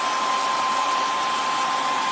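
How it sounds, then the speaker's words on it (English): A hair dryer blows steadily at close range to dry acrylic paint on Vans sneakers, a constant even whoosh with a faint whine, no voices. "I'm going to hit it quickly with the hairdryer."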